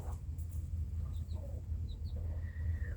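A mother hen with baby chicks: a few soft, high peeping calls and a brief cluck over a steady low background hum, faint and close, with no talk.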